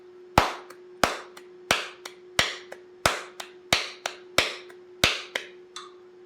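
Sharp single hand claps land at a steady one-per-second beat in time with a metronome, whose steady tone hums beneath each crisp, close clap as it fades.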